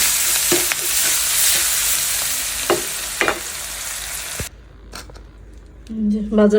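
Onions fry in a pan alongside hilsa fish, a dense, loud sizzle with occasional scraping clicks that cuts off abruptly partway, leaving quieter knocks and a brief voice near the end.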